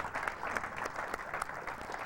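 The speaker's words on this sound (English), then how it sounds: "Give him a round of applause." Audience at a 2002 conference on teeth and health breaks into steady applause, a dense close wash of clapping that holds evenly for about two seconds.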